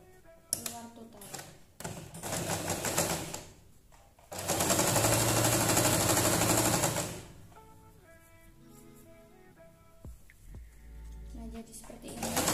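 Domestic sewing machine stitching fabric scraps into a shopping bag, running in bursts of rapid mechanical whirring with pauses and handling noises between, close and fairly loud, with a voice talking quietly in places.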